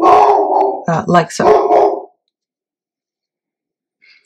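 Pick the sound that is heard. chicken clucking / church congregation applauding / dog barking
dog barking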